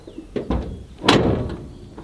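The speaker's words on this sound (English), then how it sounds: "Let's see what happens when we close the door now." A 1979 Chevrolet Scottsdale K-10 pickup truck door swings shut with a solid thump, preceded by a couple of lighter knocks and clicks, close and brief.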